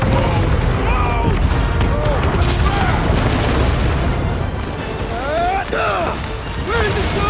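A loud, rumbling explosion in the video game Marvel's Guardians of the Galaxy, a sustained crashing roar with debris and mechanical noise, while characters shout urgently over it.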